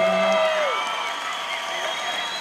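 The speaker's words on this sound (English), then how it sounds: "Everybody give them a round of applause." Crowd at an MMA fight event cheers and whoops for the military, a steady roar of voices with shrill whistles and yells, applause blending into the broad cheering.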